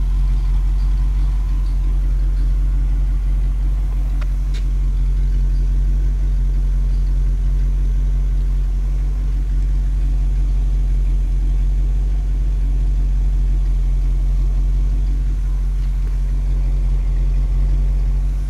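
A 1960 Cadillac Coupe DeVille engine, first run in 15 years, idles steadily with a deep, even low hum and a constant mechanical drone, close and loud, no talking.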